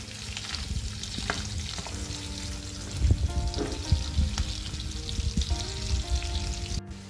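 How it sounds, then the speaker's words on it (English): Garlic sizzling and frying in melted butter in a pan, a steady close crackle with occasional stirring knocks and scrapes, louder from the middle onward and fading abruptly at the end. "Once the butter melts, we will add garlic. Fry it for a minute."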